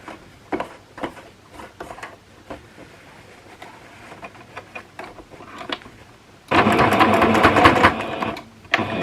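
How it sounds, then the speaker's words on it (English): A sewing machine stitches along a fabric scrunchie, with soft clicks and handling at first, then a loud, close burst of fast, steady whirring stitching near the end. "we're going to sew along there"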